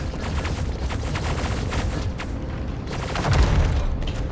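Rapid bursts of gunfire and booming blasts from combat in the space game Star Citizen aboard the RSI Perseus, loud and dense, with a heavier boom near the end.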